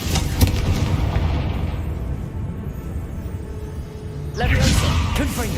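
A Confringo blasting spell from Hogwarts Legacy bursts with a loud, booming explosion that rumbles and fades over several seconds before a second crackling blast near the end.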